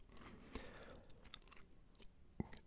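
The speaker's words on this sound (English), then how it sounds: "we are also going to be eating a cheesesteak" Quiet close-up chewing of a cheesesteak during an ASMR gaming mukbang, soft moist mastication with a few sharper bites and crunches, no talking.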